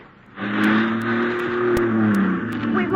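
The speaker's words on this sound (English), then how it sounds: "Let the car roll back toward the one in the rear." A car engine in a radio drama revs and hums steadily as the vehicle rolls back toward the car behind it, holding loud and close for about two and a half seconds, with faint clicks above.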